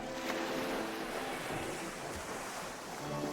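Ambient water in the video game The Beginner's Guide, a steady wash of waves and surf with breezy wind noise, continuous and fairly loud with no voices.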